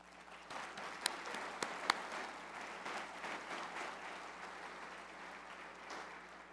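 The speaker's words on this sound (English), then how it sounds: "Give yourself a round of applause" An audience at a presentation on the Williston Basin oil industry breaks into sustained applause, heard somewhat distantly with a few sharp, close claps early on before settling into a steady wash.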